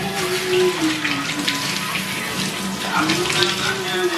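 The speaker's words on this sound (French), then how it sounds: "je vais prendre ma douche" Shower water runs steadily in a bathroom, a continuous close hiss of spray with faint talk underneath.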